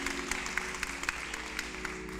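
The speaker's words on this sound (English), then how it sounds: "Yeah, go ahead, you clap up for that." Audience applause at a Kentucky voting rally, a steady wash of clapping from a crowd with no speech over it.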